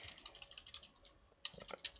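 Quiet, close keyboard typing, a short run of light clicking keystrokes in an irregular rhythm with one sharper tap, heard alone.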